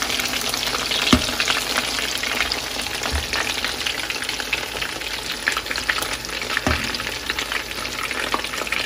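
Chicken pakoras deep-fry in hot oil with a dense, steady bubbling sizzle, close and loud, broken by a couple of soft knocks, and no voices.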